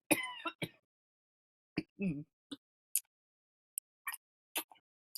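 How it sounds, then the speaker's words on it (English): A person recovering from a cold clears their throat and gives a short cough up close, followed by faint clicks and small mouth sounds in an otherwise quiet room. "Excuse me, let me cough for a second."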